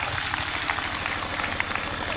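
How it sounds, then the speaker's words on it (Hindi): A large crowd applauds at a Christian tribal community protest rally in Kunkuri, Jashpur, giving a dense, continuous wash of clapping, steady and loud without breaks. "एक बार उस समिति के लिए भी जोरदार ताली बजाएंगे।"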